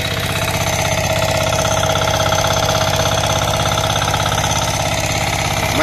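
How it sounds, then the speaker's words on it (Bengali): A mini power tiller engine runs close by, holding a loud, steady, rapid chugging throb with no breaks for several seconds. "ছোট ছোট জায়গায় আপনি এই মিনি পাওয়ার টিলার দিয়ে আপনার জমিতে চাষ দিতে পারছেন?"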